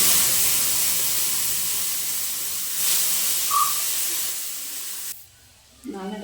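Shallots and curry leaves sizzling in hot oil for a home-cooked curry, a steady loud hiss that fades out near the end, followed by a brief voice.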